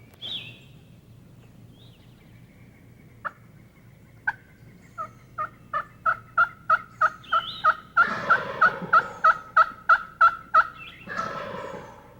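A wild turkey gobbles in a rapid run of rattling notes, loud and close, repeated several times in a quick rhythmic series with no talking.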